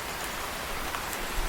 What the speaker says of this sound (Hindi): ये बारिश कब बंद होगी?